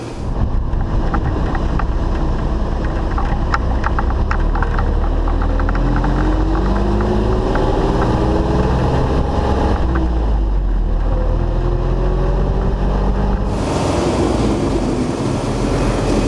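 Magirus Deutz 170D11 truck with its diesel engine under way and shifting up through the gears, a loud continuous low rumble with rising whine, heavy wind buffeting throughout and a change in tone near the end.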